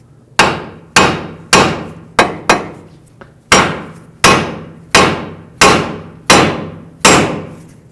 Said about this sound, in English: Now with a hammer right here, that's going to break the tie rod free from the knuckle.